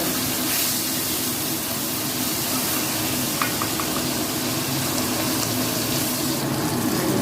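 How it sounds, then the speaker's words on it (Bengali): Pieces of rohu fish fry in hot oil in a pan, giving a steady broadband sizzle and hiss throughout with no voices. "মাছগুলোর এক পিঠ ভাজা হয়ে গেছে এবং মাছটা আবার উঠিয়ে দেবো"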